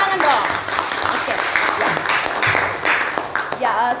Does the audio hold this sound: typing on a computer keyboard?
no